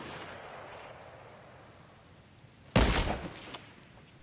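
A sniper rifle shot in the Fortnite Chapter 2 Season 7 video game, one sharp, loud crack with a short rumbling tail, then a fainter single pop, over a soft hiss.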